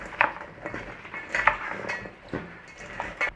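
Sprouts and parsnips being tossed together in a bowl, with a few sharp clinks and knocks of a utensil against the bowl over a soft shuffling of the vegetables, close and fairly quiet.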